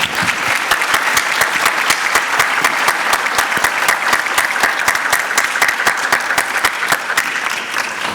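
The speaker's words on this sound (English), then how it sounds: "please give a very warm round of applause to our excellent panelists" Audience applause for the panelists of a summit panel session, a dense, steady wash of many hands clapping at close range that holds for the full length and fades slightly at the very end.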